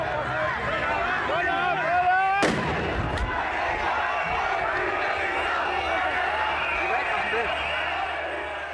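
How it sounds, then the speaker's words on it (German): A loud sharp firecracker bang cracks out amid a noisy, chanting crowd of marching football fans, followed by a second smaller pop, with shouting continuing throughout. "Alle Böller auf dem Rasen gelandet"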